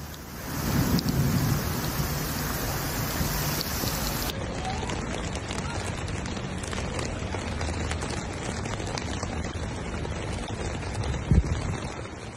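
A thunderstorm pours heavy rain over Dubai in the UAE during flooding, with a dense, steady hiss of rainfall, low rumbling thunder beneath it and a sharper thump near the end.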